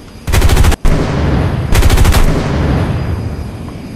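Aircraft guns firing in the Neo Warfare X combat flight game: two loud, rapid bursts of automatic fire over steady engine roar.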